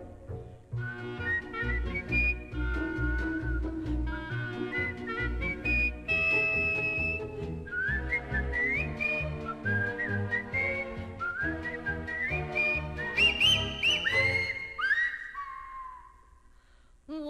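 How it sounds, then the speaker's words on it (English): A bright whistled tune from a stage musical number, melodic phrases rising and falling steadily over orchestral accompaniment, climbing to high sustained notes near the end before a brief trailing tone. "They whistle."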